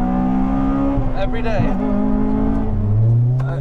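Honda Civic Type R FD2 engine revving hard, a loud, sustained high-pitched note that climbs and falls close by, with a person speaking briefly over it.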